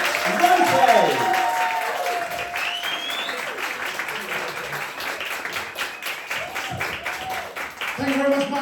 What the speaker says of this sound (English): I want lots of applause because tomorrow is his 60th birthday